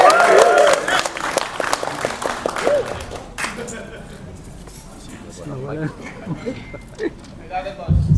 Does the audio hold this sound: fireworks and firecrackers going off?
no